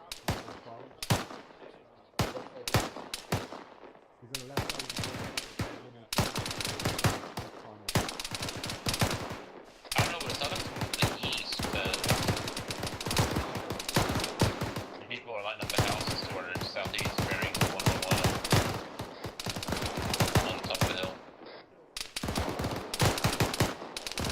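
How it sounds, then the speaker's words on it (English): Heavy gunfire in the military video game Operation Crimson Moon: long stretches of rapid automatic bursts and overlapping shots, loud and dense with brief pauses, while voices talk intermittently over the shooting. "they're shooting walls and dirt"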